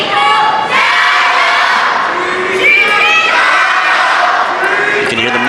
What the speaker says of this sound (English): You can hear the masculine voices again cheering for Xu Xin